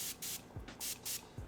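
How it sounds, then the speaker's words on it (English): Four quick hissing spritzes from a small water spray bottle used for makeup, evenly spaced, with small handling bumps between them in a quiet room. "I have this like little water spray that I got"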